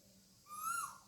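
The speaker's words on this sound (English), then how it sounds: "I don't know what kind of bird that is that makes it sound." A bird gives a single drawn-out, owl-like hooting call, rising and swelling over about half a second against a quiet, faint background with no talking.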